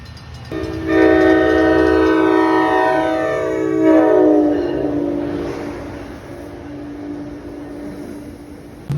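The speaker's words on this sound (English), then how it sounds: "And here's one of our trains." A train horn blares with several loud sustained tones that slide down in pitch as it passes close by, over a steady rumble of rolling wheels.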